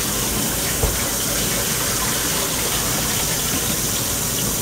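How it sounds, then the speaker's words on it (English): Hot water pours steadily from a cooking pot, a continuous dense gushing rush at close range without pause or splashing bursts, with no voices over it. "Trust me, it's pouring out and it ain't splashing everywhere."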